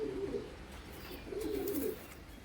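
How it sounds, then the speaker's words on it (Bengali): A female Sakdhuma pigeon, black-bodied with a white tail and a head crest, gives two soft, low, rolling coos close by against faint background noise. "এ হচ্ছে মাদা পায়রা"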